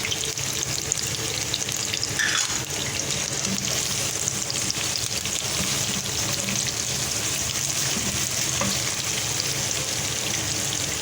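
Whole broken red chillies, cumin seeds and two cloves sizzle in hot oil in a home kitchen pan, a steady, dense crackling fry that carries on throughout with occasional small pops and no speech.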